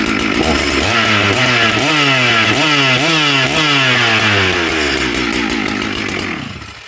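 A Farmertec G888 chainsaw runs loud and close, its two-stroke engine revving up and down in repeated surges for several seconds before easing slightly at the end.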